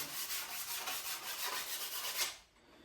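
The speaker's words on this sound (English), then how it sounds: "So give it a good sand." Sheet of 180-grit sandpaper rubbed over the wood of a DIY skiff, with quick, even back-and-forth strokes, close and fairly quiet, ending abruptly.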